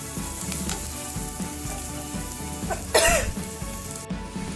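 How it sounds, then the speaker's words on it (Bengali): Over a continuous frying sizzle of green chillies and ginger for kadai paneer, a person coughs once sharply from the pungent fumes and clears their throat, close by. "এত ঝাঁজ উঠেছে যে আমার কাশি শুরু হয়ে গেছে"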